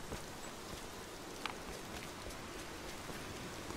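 Rain in the video game Rise of the Tomb Raider falls as a steady, soft hiss of patter with a few faint drips and rustles, continuous and fairly quiet.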